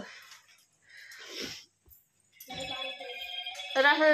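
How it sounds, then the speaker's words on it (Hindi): A mobile phone rings in a home kitchen while household chores go on, its tonal electronic melody rising loudly in the second half after softer talk and quiet moments. "दीपा तर फोन आसला"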